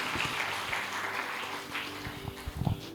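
Clapping in praise from a congregation at a Spanish-language church service, an even wash of many hands under a faint voice and music, easing off near the end.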